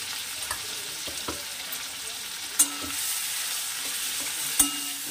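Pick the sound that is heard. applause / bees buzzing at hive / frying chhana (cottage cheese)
frying chhana (cottage cheese)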